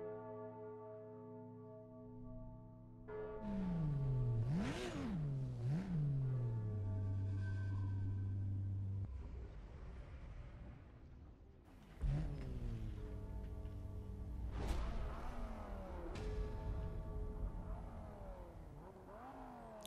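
Race car engines in a drag race in Need for Speed: Most Wanted rev up and down in repeated rising and falling whines, loud and close, with gear-shift dips and no talking.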